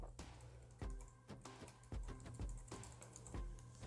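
An Apple ID is typed on a computer keyboard at close range, with a steady run of soft key clicks and a few heavier taps, probably the space bar or enter key, and no talking.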